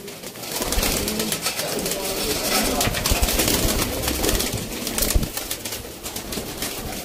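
Sialkoti pigeons coo softly amid a dense, noisy background of rustling and scattered knocks, with faint voices mixed in.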